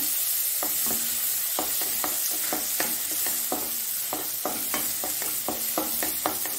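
Cashew pieces and raisins fry in hot fat in a pan, giving a steady close sizzle broken by repeated scraping stirs at a quick, uneven rhythm, with no voices.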